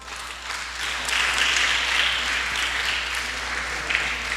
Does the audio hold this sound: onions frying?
no